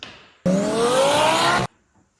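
A 900 hp twin-turbo Lamborghini STO with T51R turbo mod and titanium piping gives a loud, sustained engine rev with a rising pitch, bursting in for about a second, then cutting off sharply, leaving near silence.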